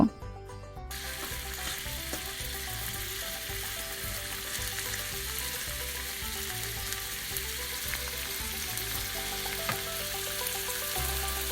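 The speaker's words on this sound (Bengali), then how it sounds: "সামান্য পরিমাণ তেল দিয়ে ঢেঁড়সগুলো মাঝারি আছে ভেজে নিব" Okra fries in a little soybean oil in a pan, a steady close sizzle with soft rhythmic stirring scrapes running throughout, no voices.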